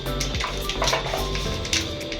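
A shower runs in a hotel bathroom, water spraying and splashing steadily at close range with a busy, continuous hiss and no talking.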